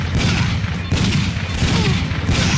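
Dense, continuous gunfire from the Time Crisis 2 light-gun arcade game, played with a foot pedal, fills the whole stretch as loud, rapid overlapping shots and booms with no pause.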